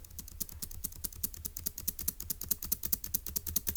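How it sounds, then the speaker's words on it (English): Rapid, steady keystrokes on a computer keyboard while entering a Turing Machine puzzle solution, close and clear with no talking, a dense run of sharp clicks throughout. "let's see if the typing will catch up"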